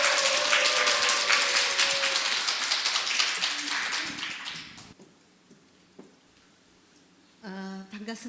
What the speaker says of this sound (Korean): 큰 박수로 한번 환영해 주시기 바랍니다.